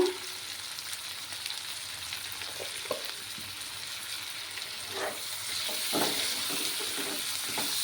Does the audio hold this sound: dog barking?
no